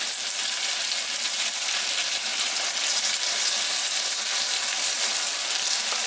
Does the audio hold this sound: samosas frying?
yes